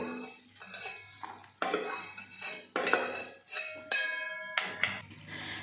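Fried cashews being scooped out of a pan on low gas, sharp metallic clanks and scrapes of a spoon against the pan in irregular bursts, close and loud with no talk.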